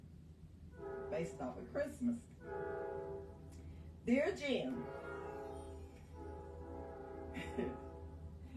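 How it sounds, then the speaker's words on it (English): A train passes at a distance, its horn sounding in long sustained blasts with a few shorter bursts, running underneath a woman's steady speech. "y'all have to excuse the train"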